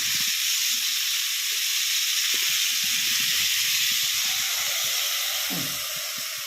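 Long beans stir-frying in a pan of hot oil with mustard seeds, a Kerala-style dish; a steady close sizzle and hiss runs throughout with faint scattered crackles and pops, no talking.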